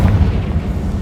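In the video game Hogwarts Legacy, a Confringo fire spell bursts into a loud, close, rumbling explosion with a sustained booming tail and no talking.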